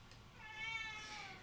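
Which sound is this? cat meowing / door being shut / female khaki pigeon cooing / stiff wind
cat meowing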